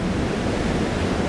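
Wind blowing onshore over a beach with waves breaking, a short burst of dense, steady rushing noise close to the microphone.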